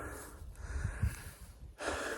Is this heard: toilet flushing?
no